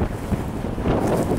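Strong wind under a high wind warning buffets the microphone outdoors, a loud, continuous roaring rumble with gusty swells and no speech.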